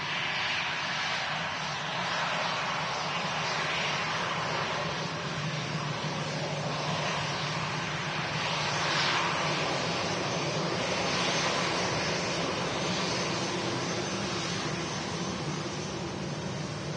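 A Jet2 airliner at Manchester Airport gives a continuous broad engine roar that swells and fades gently over the whole stretch, heard from a distance, with no voices.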